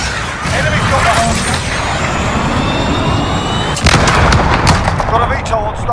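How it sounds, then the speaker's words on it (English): A missile strike in a multiplayer first-person shooter match, a heavy continuous rumble of explosions and gunfire with a sharper blast near the end, loud and dense under radio-style voice callouts. "Requesting fire missile."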